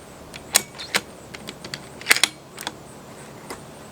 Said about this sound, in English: Alrighty, and I'll say the bolt is nice and smooth.